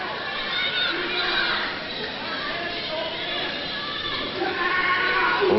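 A professional wrestling crowd murmurs and chatters at ringside, a steady, moderately loud wash of voices with occasional swells.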